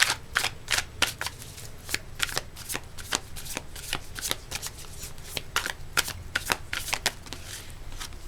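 Tarot cards are shuffled by hand in a quick series of crisp riffling snaps and slaps, some twenty sharp bursts over several seconds. The sound is close and clear against a quiet background.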